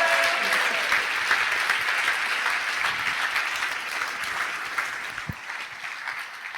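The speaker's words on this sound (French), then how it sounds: "Applaudissez la future maire du 20e, Antoinette Gull." An audience at a Paris municipal campaign launch rally claps steadily and warmly throughout, a dense wash of applause that slowly fades toward the end.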